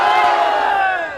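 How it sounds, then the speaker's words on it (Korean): Crowd at a protest rally outside a district office in Seoul bursting into a loud, sustained collective shout that swells then slowly fades over about a second. "함성 시작!"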